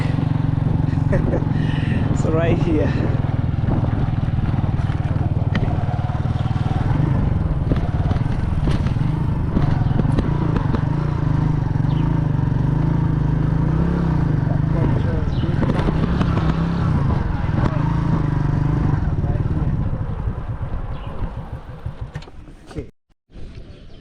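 Motorbike engine droning steadily while riding, a loud low hum with wind and road rumble carrying two riders, a student and his mother, with brief talk over it before it cuts out near the end.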